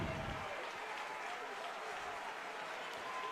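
A crowd at a women's college basketball game between Notre Dame and Syracuse gives off a faint, continuous roar and murmur in the arena, with broadcast commentary over it throughout.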